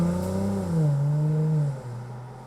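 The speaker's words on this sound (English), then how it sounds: "A touch upon it reveals a muted, muffled roar from beneath that enormous bonnet" A Mercedes-Benz SL400 with a 3-litre twin-turbo V6 gives a muffled, steady roar from under its long bonnet, the pitch lifting briefly and then settling lower, close and alone.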